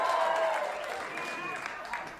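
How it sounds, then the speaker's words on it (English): Short, fairly faint burst of audience applause and clapping in a comedy club, fading quickly over two seconds. "Don't clap, it's court ordered."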